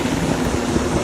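A helicopter passes overhead as a steady, loud broadband roar with a low rotor throb that fills the whole moment, no voices over it.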